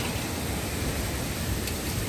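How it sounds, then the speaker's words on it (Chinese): Heavy storm rain pours down steadily with a dense, even roar, constant and loud throughout with no voices. "刚回到家就开始风暴雨。"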